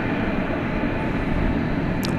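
American Flight 2111, an airliner departing DFW Airport at night bound for San Francisco, gives off a steady, distant jet roar that stays even and unbroken throughout.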